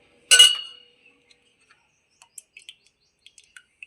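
A spoon stirs curd into cooled ragi ambali in a vessel, giving one bright metallic clink followed by a few faint, scattered taps and scrapes.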